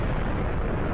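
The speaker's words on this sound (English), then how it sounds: "Oh, it's got a blast explosion." A nuclear blast explosion from the ICBM Classic mod in a video game, a loud dense roar of rumbling noise filling the short moment without a break.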